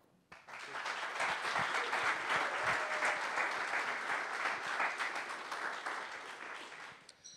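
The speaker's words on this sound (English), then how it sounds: "please give a big round of applause for Emad." A SwiftConf 2023 conference audience welcoming a speaker breaks into sustained applause, many hands clapping loudly and evenly for several seconds before it tapers off.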